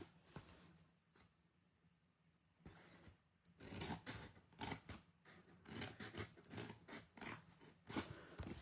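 Scissors snip through card stock in a run of short, crisp cuts close to the microphone, following a quiet stretch of faint handling.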